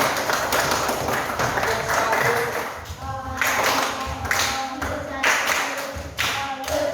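Students in a classroom applaud a presenting group, brisk hand clapping that rises and falls in several bursts, close and moderately loud, with a few thumps and a voice speaking partway through.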